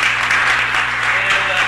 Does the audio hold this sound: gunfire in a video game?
no